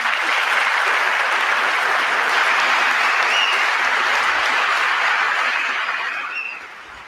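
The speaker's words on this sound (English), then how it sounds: "it looked like there was a couple of Democrats clapping there" Sustained loud applause from the audience at a presidential joint session address, a dense wash of clapping that holds steady before gradually thinning and fading near the end.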